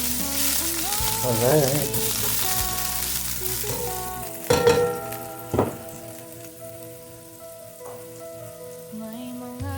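Ginger sizzling and frying in hot olive oil, a steady crackle throughout with a few clanks of a utensil; a voice speaks briefly.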